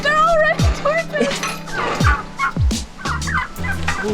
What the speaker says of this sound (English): We're now in the chicken coop.